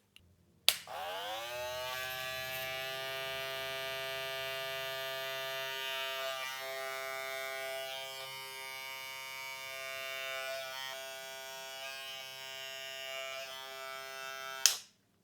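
A Wahl Vapor cordless hair clipper switches on with a click, hums in a steady high-pitched electric buzz for several seconds, then clicks off.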